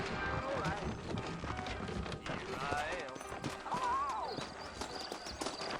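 In the video game Red Dead Redemption, hooves clip-clop steadily beneath voices talking and a whinnying horse, with a busy outdoor bustle throughout.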